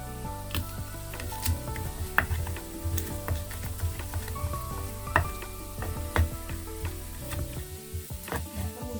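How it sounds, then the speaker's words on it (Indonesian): Sliced, soaked potatoes frying in hot oil, a steady close sizzle full of crackles and small pops, with a few sharper clatters from stirring and no voices. "Lalu goreng kentang yang telah dipotong dan direndam."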